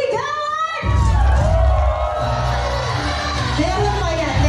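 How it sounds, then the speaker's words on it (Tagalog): Wedding guests at a Filipino reception cheer and shout loudly together, a dense sustained crowd roar rising suddenly and holding steady, with whoops and yells over it and a voice heard at the start. "Ibigay po natin ang pinakamalakas na palakpakan at sigawan!"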